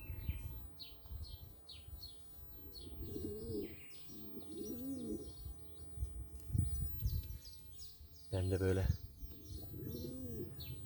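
Pigeons coo softly in repeated throaty phrases nearby, with small birds chirping in the background and a person speaking briefly.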